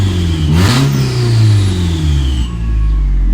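A turbocharged car engine revs up and settles back, close and loud, a steady throaty drone with a rising whine, no voices over it.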